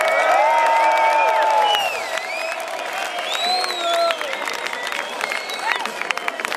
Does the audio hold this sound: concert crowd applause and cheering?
yes